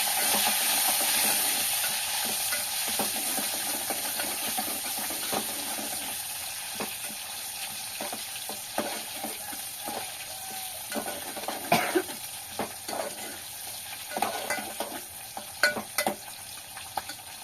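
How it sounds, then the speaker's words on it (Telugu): Onions hit hot oil and fry with a continuous sizzle, broken by scattered clicks and scrapes of stirring that grow busier toward the end. Close and unaccompanied by speech. "నూనె అయితే వేడైపోయింది. ఫస్ట్ అయితే ఉల్లిపాయలు వేసుకుంటాను."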